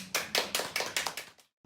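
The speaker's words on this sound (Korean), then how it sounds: "박수." An audience at a book talk about an abandoned dog claps in a short run of about seven sharp, evenly spaced claps, followed by a brief pause and one more clap.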